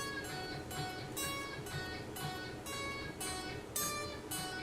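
An electric guitar plays the melody of the Halloween theme as a steady, evenly spaced run of repeating plucked notes. The notes are bright and close, and no one speaks over them.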